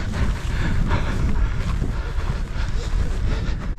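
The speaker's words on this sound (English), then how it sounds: "And it's uphill and into a horrible headwind." Strong headwind buffeting the microphone while riding an electric mountain bike uphill on Dartmoor in summer, a loud continuous low roar and rumble that fills the whole stretch with no break.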